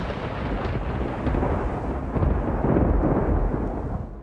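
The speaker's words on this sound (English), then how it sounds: "Next thing, lightning sound" A deep, rolling rumble of thunder swells and lingers, growing louder toward the middle before easing slightly.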